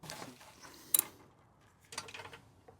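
Ratchet turning during an oil change on a 1972 Honda CB750 Four: quiet, close clicking and metallic ticks in two short bursts separated by a sharp clank, with no voices.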